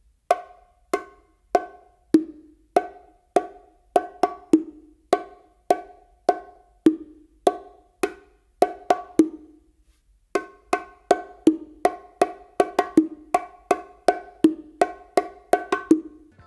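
Bongo practice exercise with open tones, a steady repeating pattern of crisp ringing hand strikes played solo and close, pausing briefly midway before continuing at a slightly busier pace.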